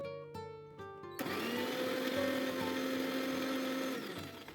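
A mixer grinder runs on tamarind and water in its jar, starting after a few short clicks and pulses, then whirring steadily and loudly for about three seconds before winding down.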